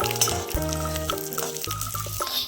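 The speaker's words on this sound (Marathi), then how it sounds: "कढईमध्ये 2 चमचे तूप गरम करून त्यात 3 चमचे हळीव टाका" Halim seeds fry in hot ghee in a kadhai, giving a continuous close sizzle and crackle with a droning background hum.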